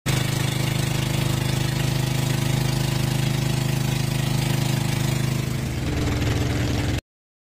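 A boat engine idles while passengers board for island hopping at Hundred Islands, Alaminos. The chugging drone is loud and constant, shifts tone briefly near the end, then cuts off abruptly.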